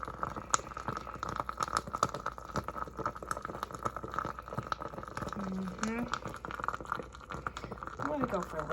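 Salt water boils down in a pan as it evaporates, giving irregular small pops, crackles and bubbling bursts close up, with a person talking over parts of it.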